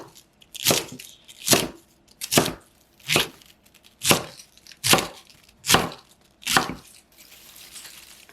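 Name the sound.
cabbage being chopped with a knife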